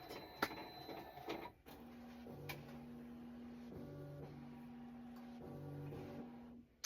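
A computerized embroidery machine traces a design's outline on a towel, giving a steady mechanical hum with stepping motor tones that shift in pitch every second or so, after a few sharp ticks at the start.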